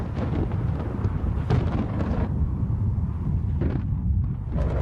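Thunder rumbles through a thunderstorm as a steady, heavy roar with a few sharper cracks and bursts, loud and continuous for several seconds, with no voices.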